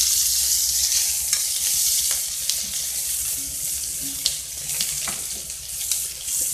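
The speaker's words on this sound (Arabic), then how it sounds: "ولما الزيت يبقى سخن نحط فص المستكة، نحط بصلة بقى اهو" Onion and a piece of mastic frying in hot oil give a steady, close sizzle, broken by occasional stirring scrapes and light clicks.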